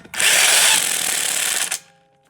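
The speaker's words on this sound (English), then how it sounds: "Get them on, and then you just go back around and retighten everything." Impact wrench retightening car wheel bolts after a brake pad change, one loud sustained whirring burst lasting about a second and a half, close by, then stopping abruptly.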